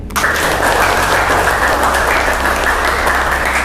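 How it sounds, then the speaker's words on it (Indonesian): A classroom group applauding at the end of a lesson on separation experiments, loud, dense and steady clapping from many hands, sustained without pause. "Kita tepuk tangan yang paling meriah untuk pertemuan kita hari ini."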